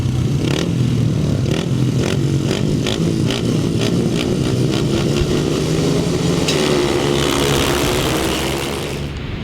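A grid of 500cc solo grasstrack motorcycles leaves the start line at a race meeting, engines roaring and revving together loudly, then pulling away and fading slightly toward the end.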